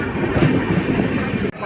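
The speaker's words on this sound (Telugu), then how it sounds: "పక్కన వెళ్ళిపోతుంది కదా ఎల్హెచ్బి ట్రైన్" An LHB-coach passenger train runs alongside on the Puri–Howrah line near Jajpur, a loud, steady rumbling roar of wheels and rushing air close by, cutting off abruptly at the end.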